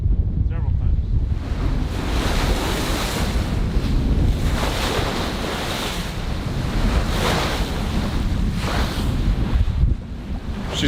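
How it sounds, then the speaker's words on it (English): Ocean waves slap and surge against a large sailboat beating upwind at sea, with heavy wind buffeting the microphone in a continuous loud roar and rhythmic swells of spray. "We've been taking waves all day."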